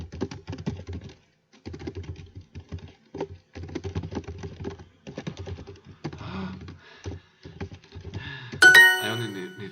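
Quick bursts of clicking keystrokes on a German-layout computer keyboard, close and dry, in irregular runs with short pauses, ending in a bright electronic chime.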